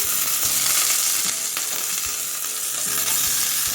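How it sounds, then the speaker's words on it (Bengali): Raw mung dal with mango and turmeric spluttering and sizzling hard in a pan, a dense continuous crackle with a few sharper pops and stirring sounds. "প্রচণ্ড চিটকাচ্ছে সেই জন্য একটু ঢাকা দিয়ে দিয়েই এটাকে নেড়ে চেড়ে দিচ্ছি"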